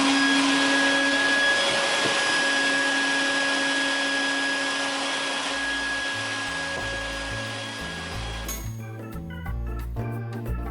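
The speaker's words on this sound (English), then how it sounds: "I'm just going to put this attachment on now, and I'm going to actually vacuum any crumbs out of the oven" A shop vac fitted with a fluffy brush attachment roars steadily at close range while crumbs are vacuumed out of an oven, its motor whine holding constant before a sudden change near the end brings a shift in tone.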